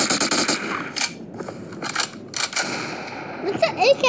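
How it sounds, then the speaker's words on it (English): Gunfire in the mobile shooter Modern Strike: short, sharp automatic bursts, loud and close, separated by brief quiet gaps, followed by a clatter of other in-game noises. "Took the gun to shoot one, then shoots the other, then shoots the other."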